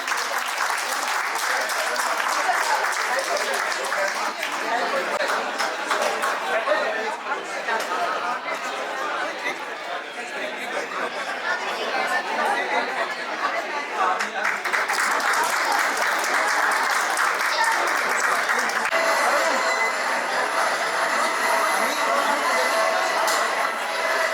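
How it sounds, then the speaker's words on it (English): An audience at an alumni meet gives a sustained round of applause, dense clapping with some crowd chatter mixed in, steady and fairly loud throughout. "Big round of applause for Pillai ma'am."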